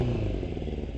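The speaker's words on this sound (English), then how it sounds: "So we got the D&D exhaust. Is that epic or what? Most beautiful sound you'll ever hear." A Suzuki Katana motorcycle fitted with a D&D exhaust idles with a deep, throbbing, loud rumble, a steady close engine note filling the short stretch with no voices.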